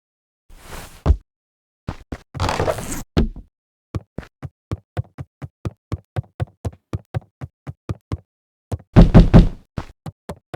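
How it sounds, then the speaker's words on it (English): Knocking on a door in the game Beacon Pines: a long run of sharp, evenly spaced knocks, loud and close, with a few heavier bangs and brief rustles around them and no voices. "you're not gonna be banging on my door like that, like the police"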